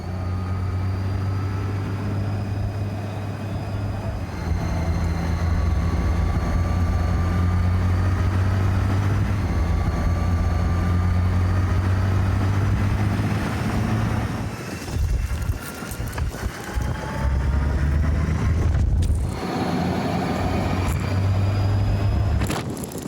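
Yamaha Tenere 700 motorcycles ride a twisty road, their engines droning steadily and shifting pitch beneath heavy wind buffeting on the microphone, with several gear changes and throttle swells.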